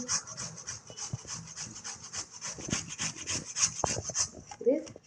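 A carrot is grated by hand, rubbed back and forth against a grater in a steady run of close, scratchy strokes.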